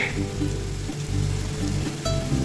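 Potatoes frying in hot oil in a home kitchen pan, a steady close sizzle with crackling texture throughout and a few stirring clinks, no talk heard over it.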